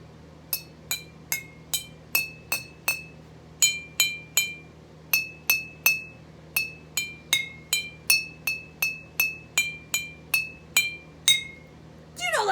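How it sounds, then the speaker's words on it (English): Glass jars filled with water are tapped one at a time to play Mary Had a Little Lamb, a steady string of bright, ringing clinks with a low hum beneath, and a voice breaks in at the very end. "I can play a special song with the jars."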